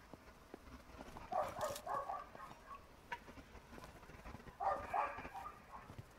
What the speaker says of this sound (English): Don't know where that dog is. It sounds like it's in the building.